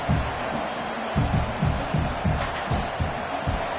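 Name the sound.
stadium crowd at Miami vs Duke football game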